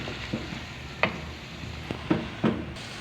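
Chicken with halved green chillies frying in a pan, a steady soft sizzle broken by a few sharp stirring knocks and scrapes, close and fairly quiet, with nobody talking.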